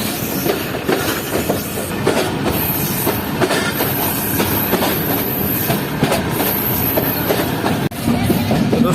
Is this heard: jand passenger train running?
yes